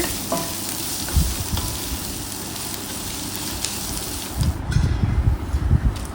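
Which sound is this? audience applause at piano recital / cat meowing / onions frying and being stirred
onions frying and being stirred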